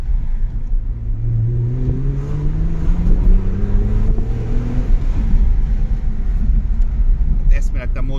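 A Hyundai Coupe with a 2.7 V6 engine accelerates hard, its exhaust note climbing in pitch through rising revs. It stays loud and close throughout with a deep, steady roar.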